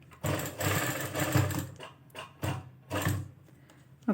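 A sewing machine stitches over crossed fabric cords on a trouser hem, running in short close bursts of rapid mechanical whirring separated by brief pauses, with no talk.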